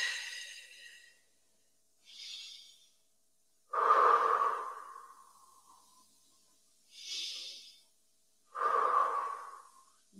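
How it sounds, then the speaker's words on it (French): Deep breaths from a seniors' exercise class, with long hissy inhales and exhales alternating in a slow, regular rhythm, close and fairly loud against silence. "Inspirez."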